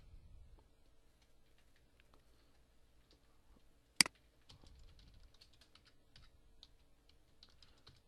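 A search is typed on a computer keyboard with light, quiet key clicks ticking in a steady stream, broken by one sharp louder tap midway.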